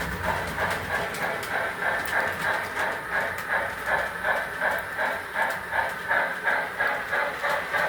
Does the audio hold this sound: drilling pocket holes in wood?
no